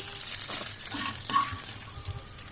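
Spinach chutney ingredients fry in a pan with a steady close sizzle, while stirring makes soft scraping and clinking sounds. No one speaks.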